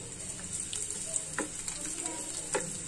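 Garlic sizzles in three to four spoonfuls of hot oil for a beans and onion dish, a steady close frying hiss with faint crackles and a few soft pops scattered throughout.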